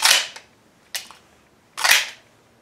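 Sig P320 X5 pistol magazines dropping free from the magwell, three sharp close clacks spaced about a second apart.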